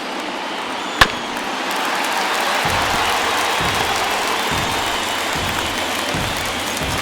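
A big stadium crowd of over 39,000 in the baseball video game MLB The Show 21, White Sox against Yankees, keeps up a steady, loud roar of cheering, with one sharp click near the start and no talk.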